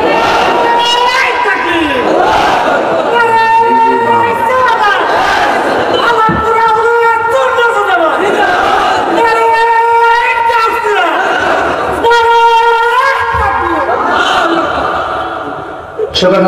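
A large crowd at an Islamic religious sermon gathering shouts takbir in loud, rhythmic chant responses, with voices rising and falling in repeated waves across the whole stretch.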